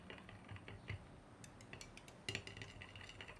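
Liquid plastisol stirred in a cup for soft-plastic bait molding, a quiet run of scraping clicks and taps with a couple of sharper knocks against the cup's side, heard alone and close.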